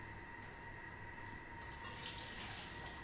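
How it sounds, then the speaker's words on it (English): Hot water poured out of a Thermomix TM6 mixing bowl into a sink, a steady close splashing stream that grows brighter and heavier toward the end, with no talking. "I'm just gonna pour out the hot water now."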